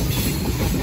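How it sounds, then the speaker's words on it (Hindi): A train passing at close range, seen from a roadside bypass: a steady, loud rumble of rolling stock fills the short moment with no break and no voices. "यहाँ से देखा तो ट्रेन गुजर रही है भाई साहब"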